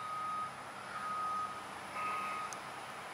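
Repeated reversing beeps from a construction vehicle at a chapel building site in a Mississippi churchyard, a steady series of tones sounding at a moderate distance over a continuous rumble of truck engine and site noise.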